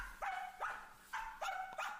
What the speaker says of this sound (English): another common trait of the Samoyed is their unique and persistent bark